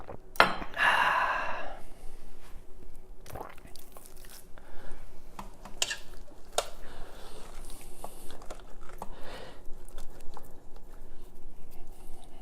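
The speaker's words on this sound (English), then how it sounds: "the next part is we want to get our meat into the pot" Corned beef being set into an Instant Pot over a bed of spices and onions, heard as scattered close clunks, scrapes and soft wet handling knocks with no talking.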